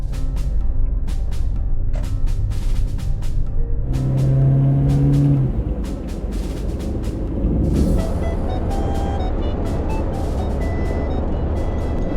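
A Toyota HiAce camper van cruises on a highway, a loud steady road and engine rumble with continuous tire noise close up throughout.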